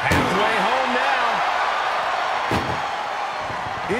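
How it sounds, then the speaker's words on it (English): An ambulance door slammed shut during a wrestling match, a sharp bang about midway through over a loud arena crowd roar, while an excited commentator talks throughout. "Look at the struggle just to shut that first door."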